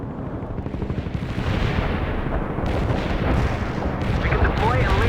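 An artillery barrage in World in Conflict, a continuous rumbling roar of overlapping impacts and blasts that thickens after the first second, with faint radio chatter in the background.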